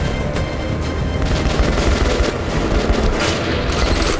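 Rapid, dense gunfire in Metro Last Light Redux, loud continuous bursts of shots rattling close throughout, with no talking over it.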